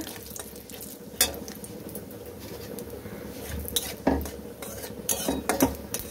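White cumin seeds fry in oil in a pan with cardamom already added, while a utensil stirs and scrapes against the metal, giving a few distinct clinks over a steady low sizzle.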